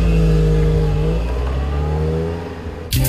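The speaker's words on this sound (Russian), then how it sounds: "Сильный мотор наделяет автомобиль неплохой динамикой." An AZLK Moskvich hatchback engine pulls steadily under acceleration, a loud, close mid-pitched drone with the tone shifting as it revs, ending with a brief sharp noise.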